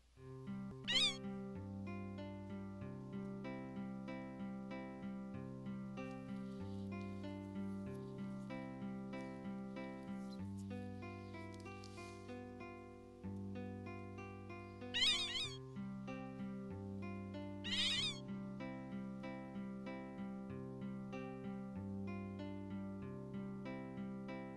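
Cat meows from a Final Fantasy 9 game, a few short bright cries over steady looping game music, with no talking.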